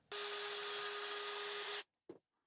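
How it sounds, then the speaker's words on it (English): A power drill whines steadily for nearly two seconds as it bores through a wooden guitar body into the electronics cavity, then stops abruptly, followed by a short scraping knock. "just drill through into the electronics cavity for both the pickup wires to go through"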